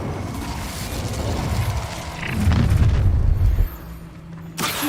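An Incendio fire spell blasts in Hogwarts Legacy as a rising whoosh that swells into a loud, rumbling burst of flame lasting about a second, set against ongoing combat noise, followed by a sharp mechanical impact.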